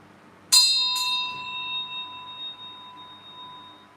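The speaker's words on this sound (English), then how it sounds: "like this bell is how long it's capable of containing the sound." A single bell is struck near the mic, giving a bright, loud strike and a quick second tap, then a clear ringing tone that slowly fades over several seconds with no talk.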